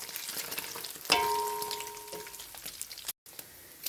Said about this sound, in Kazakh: Мінекей құйрық майымызды турап қойдық, қазір қуыратын боламыз